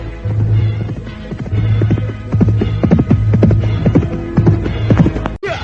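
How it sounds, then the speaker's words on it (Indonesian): A horse gallops hurriedly along a stony road as a radio drama effect, with dense, rapid, loud hoofbeats close up over a low throbbing hum, ending in a brief dropout. "dari sebuah jalanan berbatu, nampak seseorang tengah berkuda dengan tergesa-gesa"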